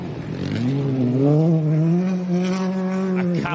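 A rally car on a gravel special stage in Gympie, Queensland: the engine note swells and eases with short stabs of throttle and braking, its loud tone climbing and dipping close by before a sharp cut near the end.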